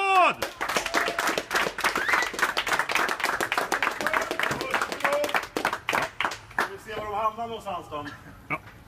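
A big round of applause with a few sharp individual slaps breaks out among a group of people, loud and close, while voices talk and call over the clapping as it thins out toward the end.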